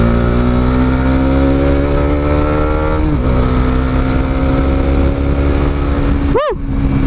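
Bajaj Dominar 400 motorcycle engine revving while riding at high speed on a hot afternoon, a loud steady drone with rising and falling revs and a sharp rev swoop near the end.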